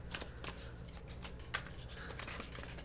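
Chakra Wisdom oracle cards and Gilded Tarot cards being shuffled by hand, a continuous riffling and flicking of card stock with repeated soft slaps, close and clear over a low background hum.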